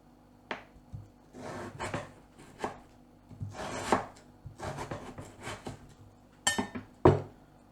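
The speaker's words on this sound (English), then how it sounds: "I usually slice them in half and then thin slices like that." A knife cuts halved potatoes into thin slices on a board. About a dozen crisp, close knocks come at an uneven pace, some sharper clinks among them, with quiet pauses between strokes.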